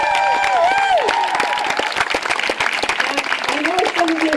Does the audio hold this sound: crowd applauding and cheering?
yes